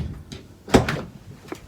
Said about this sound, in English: instructions say close and then reopen the door to wake up the BCM